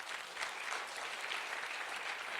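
At a church sermon, the congregation breaks into loud, sustained applause, a dense wash of many clapping hands that holds steady throughout, with no voice over it.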